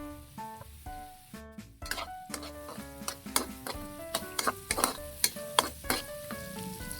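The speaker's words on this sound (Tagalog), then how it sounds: "Ito tayo ng mantika. Tayo ng bawang. Sibuyas. Saka sili." Garlic, onion and chili sautéing in hot oil in a pan, sizzling steadily with repeated sharp stirring clicks and scrapes of a utensil that grow busier, close and fairly quiet, with no talk.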